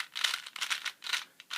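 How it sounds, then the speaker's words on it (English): A Cyclone Boys speed cube turned up close, giving irregular bursts of crisp rattling clicks with short pauses between turns and no voices. "Here's the sound of the Cyclone boys."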